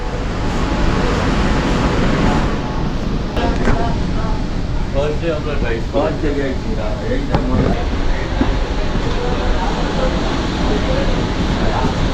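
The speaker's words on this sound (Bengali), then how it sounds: "ট্রেন কিন্তু এখন ঢুকছে আমাদের এই পাশ দিয়ে" Metro train pulling into an underwater station on the Sealdah–Howrah line, a steady loud roar of wheels and rumble filling the platform, with people talking throughout.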